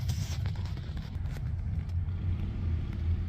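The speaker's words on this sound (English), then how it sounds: "There goes a Nova going down the road." A Chevrolet Nova drives down the road, its low engine rumble steady and fairly close, with a little wind noise on the microphone and no talking.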